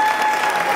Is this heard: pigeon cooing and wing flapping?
no